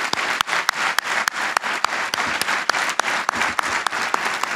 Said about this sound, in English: deserves a hearty round of applause